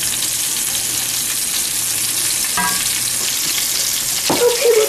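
Hamburger meatballs fry in a pan in a loud, close, steady sizzle, with a brief knock and scrape near the end as a wooden spoon turns them.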